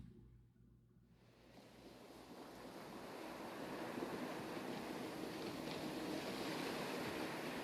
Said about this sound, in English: Waves rush beneath me.